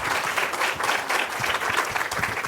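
Steady applause from an audience before a talk fills the whole stretch, dense and continuous clapping with no voices standing out.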